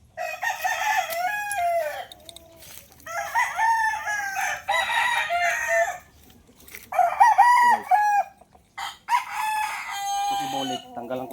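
A rooster crows several times in a row, loud and close, each call rising and trailing off, with short pauses between and faint clucking.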